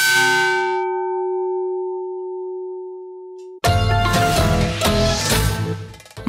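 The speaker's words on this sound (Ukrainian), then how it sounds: "У 2022 році прихожани храму купили новий благовіст." Church bells in the village of Oleshkiv, including a new bell of over 150 kilograms and two old ones: first a single long tone slowly fading, then a sudden burst of loud clanging peals ringing close.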